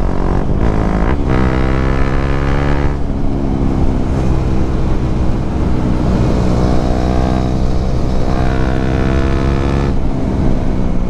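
A KTM 390 Duke motorcycle engine revs hard and accelerates, its loud, close single-cylinder drone climbing in pitch through several gear changes and running steadily with no talking.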